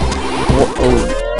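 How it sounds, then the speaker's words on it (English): Drowning jingle for Tails in the Sonic 3 & Knuckles video game, heard in Hydrocity Zone: a short, loud burst of tense, rising electronic game music with busy, clashing tones, filling the moment with no talking. "that's the sound of Tails drowning"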